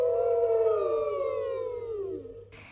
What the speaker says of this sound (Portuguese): Eu acho que vejo um lobo perseguindo-me.